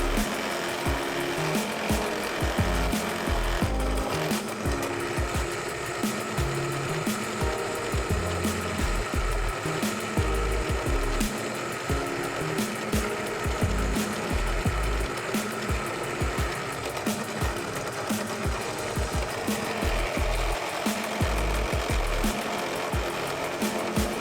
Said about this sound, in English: We then countersink with a 20mm drill bit 8mm deep